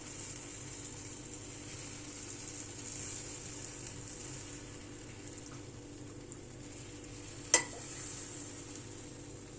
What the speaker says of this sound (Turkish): Şöyle hemen sıcak sıcak şerbetini dökmek istiyorum.